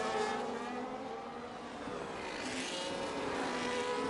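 Open-wheel F1 race cars from the F1 25 video game roar past in a close overtake, a sustained loud engine drone with shifting pitch as cars pass, no voices.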